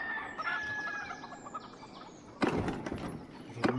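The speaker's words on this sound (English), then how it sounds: "The rooster has crowed." A rooster crows in the video game Mount & Blade II Bannerlord, a single drawn-out call rising over steady ambient bird chirps and background, with a louder burst near the end.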